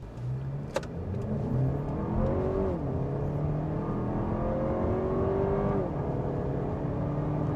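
A 2023 Lexus RX 350 with a 2.4-liter turbocharged four-cylinder accelerating hard from a standstill, heard from inside the cabin as a steady engine drone rising in pitch through two gear changes, with no talk.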